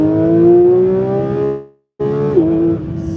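Engine of a 2022 Porsche 911 GT3 with PDK gearbox, revving loudly and rising in pitch, cutting off abruptly for a moment on a shift, then roaring back up with a crisp, high wail before easing off.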